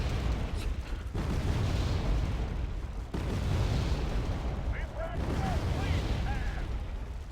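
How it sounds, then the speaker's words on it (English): Paladin self-propelled artillery firing rapid salvos in the video game Wargame AirLand Battle, a dense run of heavy booms and rumbling blasts, with a sharp cutoff partway through and a voice talking over it. "Those Paladin have really an amazing rate of fire."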